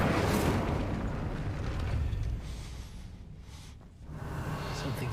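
A fire spell cast in Hogwarts Legacy on PS5 gives a loud, roaring, explosive burst that rumbles on for several seconds, fades briefly, then swells again.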